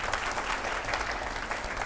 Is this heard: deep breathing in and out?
no